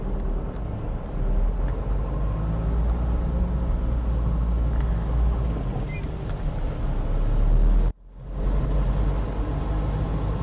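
A car pulling away in first gear gives a loud, low engine rumble that builds steadily, cuts out abruptly, then resumes.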